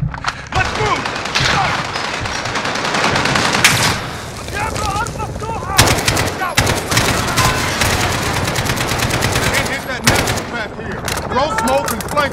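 Call of Duty battle gunfire: repeated bursts of automatic rifle fire and sharp single shots crack loudly throughout, with a boom or two and in-game squad voices calling out over the shooting.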